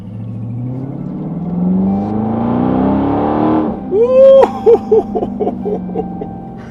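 A 2020 Dodge Charger 392 Scat Pack Widebody engine in auto mode hums and builds in pitch, then barks through several sharp revs in quick succession, loud and close.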